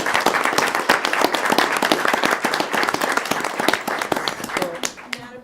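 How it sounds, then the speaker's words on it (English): Applause and clapping from the audience at a Las Cruces public school board meeting, a dense, steady patter of many hands lasting several seconds before tapering off near the end. "let's give them a round of applause"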